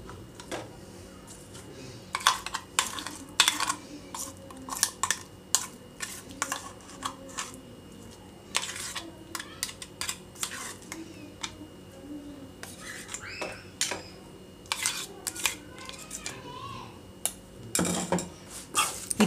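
Spoon scraping and clinking in a bowl as tempering is stirred into homemade gongura chutney with red chillies and oil, a steady run of close, sharp taps and scrapes over low background noise.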